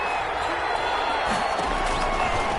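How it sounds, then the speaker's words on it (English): A football stadium crowd roars in a steady, dense wash of noise as fans urge on their defense on third down late in the game, with no clear breaks or individual voices standing out. "this crowd urging on their defense. They're up and making noise."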